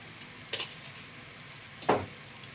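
Cumin, coriander and chili fry quietly in a pan. Two short, sharp stirring scrapes rise above the faint sizzle, and no one is talking.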